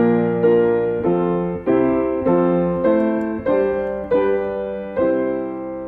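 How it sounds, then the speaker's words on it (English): The Christmas carol While Shepherds Watch Their Flocks by Night played as a melody with chords on a piano-like instrument, about nine steady notes with sustained, gently decaying tones, clear and alone. "the well-known Christmas carol, While Shepherds Watch Their Flocks by Night, goes like this."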